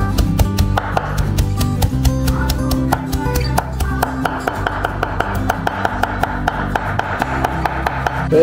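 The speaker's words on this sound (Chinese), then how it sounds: "香菜切好了" A knife chops coriander leaves on a board for dumpling filling, a fast, regular series of sharp, close taps that keeps up without pause.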